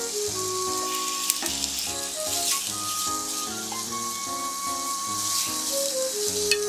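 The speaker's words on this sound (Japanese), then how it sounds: "フライパンをきれいにして油を引きます。 手羽元を炒めます。" Chicken drumsticks fry in oil in a frying pan, giving a steady, dense sizzle that runs throughout beneath melodic background music.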